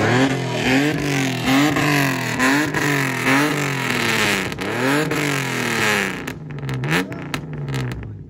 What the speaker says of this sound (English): rev your engine up with the Capri